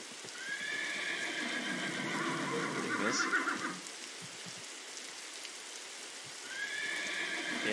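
A horse neighs in the Roblox game YBA. Loud whinnies come at the start and again near the end over a steady hiss, with a brief spoken word in between.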